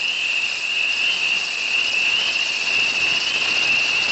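Periodical cicadas emerging after seventeen years underground, recorded outdoors for a 1983 wildlife film, make a loud, steady, unbroken high-pitched droning chorus that fills the whole stretch with no voices.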